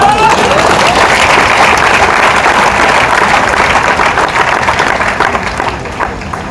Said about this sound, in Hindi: बजा लीजिए ताली एक बार अपने लिए